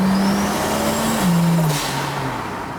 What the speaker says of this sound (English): Off the line, when I floor it, it's not dramatic. It builds and builds and builds,